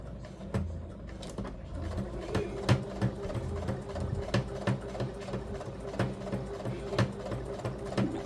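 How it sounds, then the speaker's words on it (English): Sewing machine stitching fabric for a mug rug, running steadily with a rhythmic mechanical whir and regular needle clicks, close and moderately loud, no voices over it. "So we are going to try to sew as parallel to that line as possible and do that"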